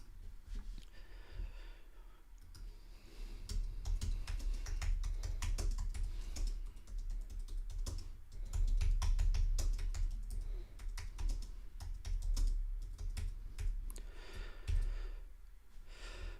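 Steady keyboard typing fills the stretch, rapid uneven key clicks coming in bursts with short pauses, close and fairly quiet, with occasional breathing and no talk.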